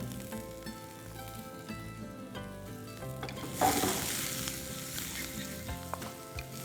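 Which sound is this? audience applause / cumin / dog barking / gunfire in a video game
cumin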